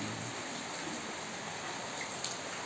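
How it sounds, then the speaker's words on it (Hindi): Heavy rain pours down in a steady, dense hiss during a traffic jam, constant and loud throughout with no breaks and no voices. "बारिश कितना ज़ोर से गिर रहा है अभी"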